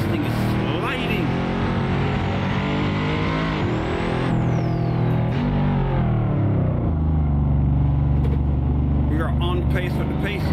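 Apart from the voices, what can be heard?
Pagani hypercar engine in Assetto Corsa video game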